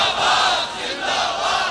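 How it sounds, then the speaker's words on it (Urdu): A large crowd at a religious rally chants slogans in unison, loud and dense with roaring voices sustained throughout. "ایتھوں بڑے نعرے ہو گئے"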